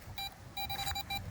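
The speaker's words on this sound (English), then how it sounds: "Okay, I heard a beep" A few short electronic beeps in quick bursts, fairly faint, with quiet background between them.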